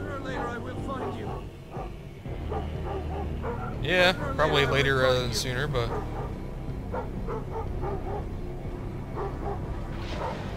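Dogs barking and yipping in the stealth video game Thief, a burst of agitated barks mid-clip over continuous game ambience, with a person talking throughout.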